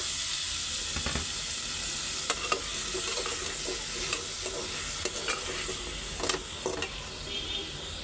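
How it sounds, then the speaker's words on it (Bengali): Potatoes fry in hot oil for a curry, giving a loud, continuous sizzle with spatula scrapes and stirring knocks at irregular moments throughout. "আলু কষায় ফেলছি"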